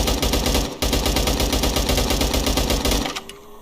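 Rapid automatic AK rifle fire in a video game, a dense, loud continuous rattle of shots lasting about three seconds with a brief gap near the start, then cutting off to a quieter tail.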